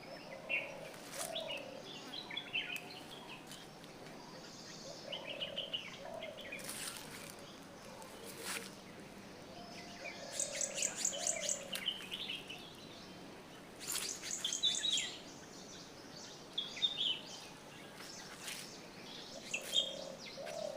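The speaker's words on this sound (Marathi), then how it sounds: "आता फक्त आणि फक्त पक्ष्यांचे आवाज तुम्ही ऐका" Birds chirp and sing in a forest in the Konkan region, several calls overlapping in scattered bursts over a soft, steady background hiss, with no talking.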